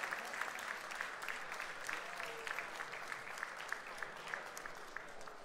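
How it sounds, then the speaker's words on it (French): An audience at a burger competition final applauds a third-place finisher, a sustained, even wash of clapping heard from some distance and fairly quiet throughout. "Félicitations, vous pouvez applaudir Lionel."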